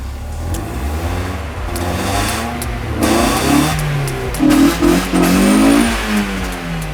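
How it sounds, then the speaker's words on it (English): A car engine with retarded ignition timing is revved hard, a loud, close, rough roar that climbs and falls through several surges and has a lumpy, uneven note. Nobody speaks. "time to grab the spark, give it a rev, see if we make any fire"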